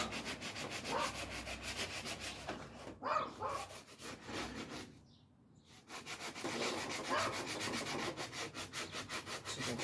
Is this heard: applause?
no